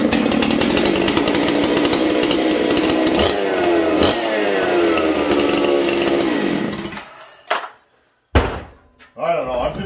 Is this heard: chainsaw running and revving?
yes